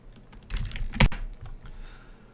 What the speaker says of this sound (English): I just typed Lou.